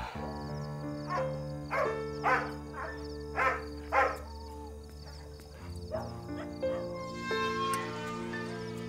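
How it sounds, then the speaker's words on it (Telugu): A dog barks in a series of short, clear yaps across the first half, set against a sustained musical score in a dubbed Telugu romance film scene. "ఇక్కడ కుక్క మొరుగుతోంది"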